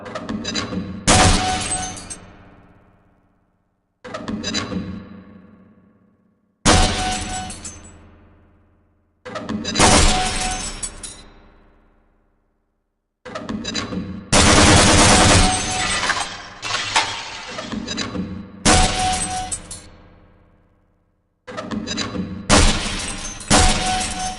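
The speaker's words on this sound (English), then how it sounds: "Some targets can only be destroyed by lobbing grenades." Targets shattering and breaking in bursts at the Black Mesa training target range in Half-Life: Blue Shift. Several loud separate crashes come with pauses between them, each one dying away, with no voices.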